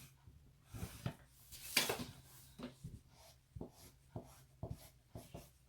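Marker or chalk scratching along fabric while drafting a straight line for an Ankara lace blouse, heard as a series of short, close, soft strokes with brief pauses between them.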